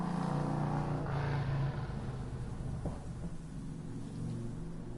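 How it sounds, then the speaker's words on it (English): A loud car drives away outside with a heavy, close rumbling roar that dips after a second or two, then holds at a steady drone. "Fucking loud-ass cars. I hate it when they're loud when they drive away, too."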